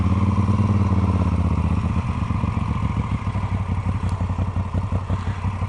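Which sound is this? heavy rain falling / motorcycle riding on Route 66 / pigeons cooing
motorcycle riding on Route 66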